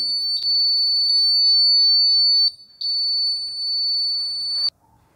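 A high-pitched electronic vehicle sensor buzzer sounds steadily, cutting out briefly midway before resuming, then stopping abruptly; faint low background noise underneath.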